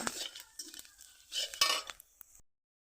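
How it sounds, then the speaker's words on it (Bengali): Panch phoron and dry red chillies frying in oil in a wok, stirred with a metal spatula: close scraping and clinking strokes over a light sizzle, fading out before a brief silence at the end. "একটু ভালো করে ভেজে নেড়ে ছেড়ে নেব।"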